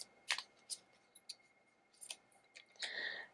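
Tarot cards being shuffled by hand, a few crisp papery riffles and flicks at close range, spaced irregularly and ending in a longer brushing shuffle, with no talking.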